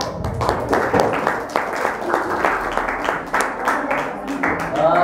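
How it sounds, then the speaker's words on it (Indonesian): An audience claps for the first group at a Youth Pledge Day recitation contest, a dense run of hand claps lasting several seconds, fairly close and steady, with voices mixed in. "Karena di kelompok pertama kita beri tepuk tangan dulu"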